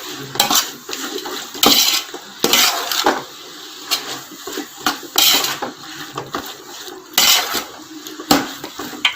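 Mushroom biryani masala with tomato and mushrooms being mixed in a pot at home, a spoon scraping and clanking against the metal in repeated bursts, close and fairly loud, with no talk.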